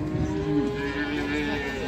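A fattened cow at a livestock bazaar gives one long, sustained low moo, close and steady, with faint crowd noise beneath.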